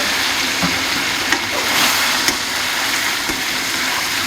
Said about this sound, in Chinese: 炒香把那个鲢鱼倒进去